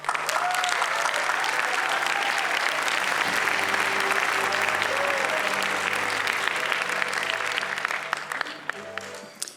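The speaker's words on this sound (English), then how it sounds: "Please join me in a warm round of applause for Claudia Abate Davat." An audience at a PeaceJam peace campaign celebration in Monte Carlo applauds, a loud sustained wash of clapping from a crowd with some murmuring voices, tapering off at the end.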